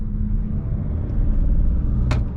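A steady, low rumbling engine drone heard from inside the cabin of a facelifted Opel Insignia 1.5 diesel with an 8-speed automatic, with a brief faint click near the end.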